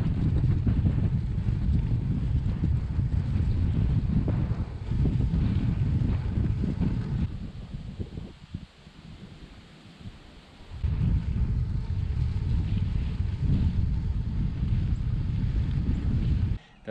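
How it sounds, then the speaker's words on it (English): Strong wind roars and buffets the microphone during a gravel bike ride through flat farmland near Bainbridge, Georgia, a heavy, steady rumble that eases briefly in the middle before gusting back up. "the wind's kicking up pretty nice. I've got a full-on headwind heading north"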